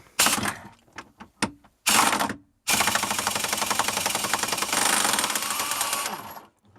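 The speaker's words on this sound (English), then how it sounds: "let's take that bolt out in the back with my impact gun" A handheld impact gun removing a bolt from the back of a cheap salvaged boat engine: a few short bursts followed by a long, loud rattling hammer run of about four seconds, close up.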